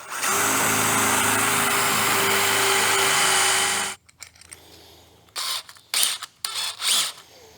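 A power drill bores screw pilot holes into a boat transom, running loud and steady for about four seconds, then stopping; a few short bursts of handling noise and brief drill runs follow.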